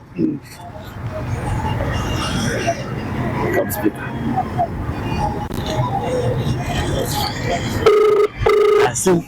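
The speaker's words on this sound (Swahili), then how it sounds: "Simu ya mama inaita?" A mobile phone rings near the end with a couple of short repeated tonal ringtone bursts, heard after steady talk over a busy, noisy background.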